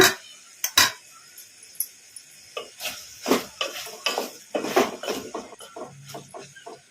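Metal plate lid lifted off a pan and brinjal fry stirred with a utensil, giving sharp clanks followed by a steady run of scraping and clinking, close and fairly loud.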